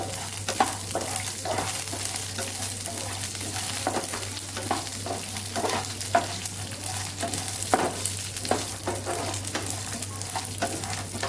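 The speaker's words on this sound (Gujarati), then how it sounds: "આપણે માંડવીના બી મરચાં અને આદુને સાતળી લેવાનું છે" Grated coconut, peanuts, chillies and ginger sautéing in a pan for a dosa chutney: a steady sizzle with repeated scraping stirs of a spoon, close and continuous, no voices.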